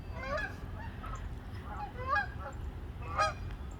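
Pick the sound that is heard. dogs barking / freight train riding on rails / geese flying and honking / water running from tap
geese flying and honking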